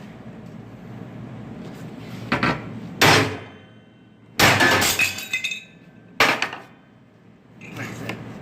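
A clamped welded metal test piece is forced and bent to test the weld, giving three or four loud, sharp metallic cracks and bangs with brief ringing, spaced a second or more apart and close by.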